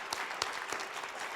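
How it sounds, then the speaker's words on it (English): Applause at the Black Boots Awards 2023 ceremony as an audience claps for a stage crew member, a steady broadband patter with a couple of sharper claps standing out, moderately loud and close throughout. "Please, everybody, give a round of applause for Tiffany Jones,"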